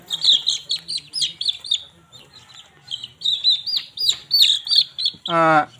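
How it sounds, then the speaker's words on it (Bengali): Young Light Brahma chicks, a few days old, chirp in bright high peeps that come in bursts and pause briefly before resuming, loud and close, with a short harsher call at the end. "লাইট ব্রাহ্মা মুরগির বাচ্চা পাশে দেখুন এখানে বাপ ব্রাহ্মা মুরগির বাচ্চা"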